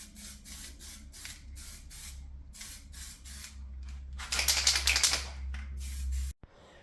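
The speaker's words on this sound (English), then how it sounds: "there was a time to put a primer on this part to save it from the rust in the future" Spray primer goes onto a repaired floor panel of a Golf MK2 GTD in short hissing bursts, about a dozen quick pulses followed by one longer, louder spray before it cuts off abruptly.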